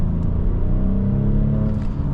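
A BMW car accelerating, its engine giving a steady, loud, close-up drone with rising harmonic tones that lasts the whole short stretch.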